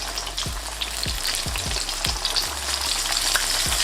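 Flour-coated chicken tenders fry in hot oil with a steady, dense sizzle and crackle, punctuated by several low thumps as pieces go in or shift in the pan; no talking.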